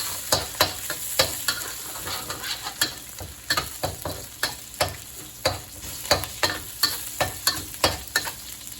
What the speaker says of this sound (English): Now we put the garlic, and again, we don't want to burn it, so it's going to be a quick stir fry right here like that.